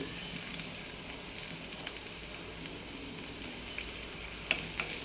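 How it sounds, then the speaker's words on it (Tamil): Garlic sizzling in hot oil in a pan for a chicken stew fry, a steady close crackling hiss with a few sharper pops near the end, no voices. "ஸோ பூண்டு போட்டு கொஞ்சம் லைட்டாக கோல்டன் ப்ரௌன் ஆகட்டும்."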